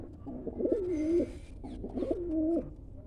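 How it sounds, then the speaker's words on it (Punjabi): Two throaty coos from a pigeon, close and clear, each a rolling call with a short gap between them. "ਕਬੂਤਰ ਆ ਬਿੰਦਰ ਵਾਲਿਆਂ ਚੋਂ"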